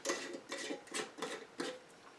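A lid goes onto a jar of chickweed steeped in vodka, giving a few light clinking, scraping twists in quick succession, close and clear with no voices.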